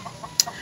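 A native chicken in a farmyard gives a few short, soft clucks, with one sharper, brighter note near the middle of a very brief moment.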